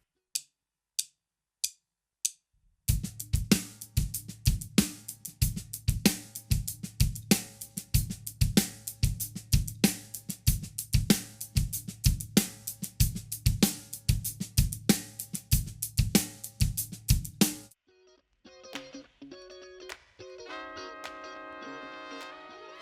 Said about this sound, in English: And now adding the bass drum to this hand pattern, the groove sounds like this.